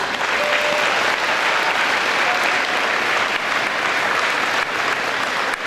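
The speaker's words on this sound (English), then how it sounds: "So guys, please give yourselves a round of applause." Supporters packed into a school gym for a Special Olympics pep rally applaud steadily, a dense, loud, sustained roar of clapping that fills the large room.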